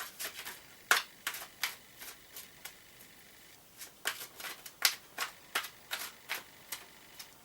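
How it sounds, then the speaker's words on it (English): Brisk shuffling of tarot cards, with repeated riffles and soft flicks of cards in uneven bursts, close up and with no talking. "Those cards are now shuffled, and I'm going to take one from the top."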